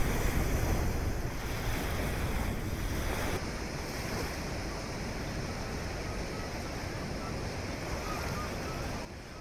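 Powerful ocean surf breaking on the beach at Kribi, a steady loud roar of waves with wind buffeting the microphone, continuous and close throughout with no voices.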